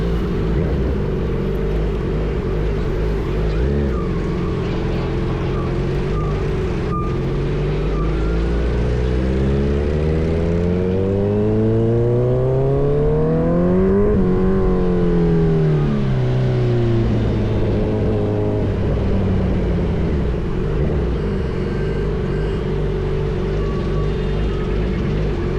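A Kawasaki Z900 motorcycle with an aftermarket exhaust revs hard near a college, the engine note climbing to a loud peak and falling back, then settling into a rumbling idle.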